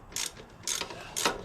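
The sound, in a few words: ratchet removing upper shock bolt on Honda Helix scooter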